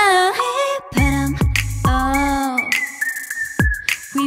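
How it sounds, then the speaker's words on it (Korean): A bright, tuneful whistle runs through a cover medley of hit songs. It mixes with sung phrases and backing music and stays close and fairly loud. "휘파람"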